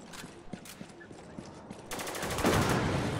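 In Spec Ops The Line multiplayer, irregular single gunshots pop at moderate distance, then a dense burst of heavy rapid gunfire and an explosive blast from a shot mine swells up loud.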